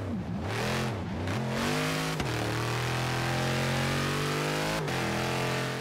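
A Dodge Challenger Hellcat in the Forza Horizon 3 racing game revs hard through its gears. The engine wails and climbs repeatedly, with brief dips at each shift, and plays loud and continuous with no talking.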